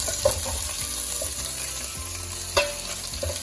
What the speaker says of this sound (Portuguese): Agora com o meu refogadinho já bem fritinho, vou jogar bacon fumado e o chouriço